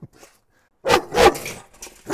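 A protective, aggressive dog barks close by, about three sharp barks in quick succession after a short quiet moment.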